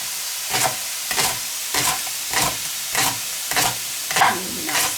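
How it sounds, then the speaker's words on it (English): Leeks and fat sizzle steadily in a hot pan, with regular bursts of louder crackling as they are stirred, roughly every half second. "It is frying away nicely here. The fat's starting to come out."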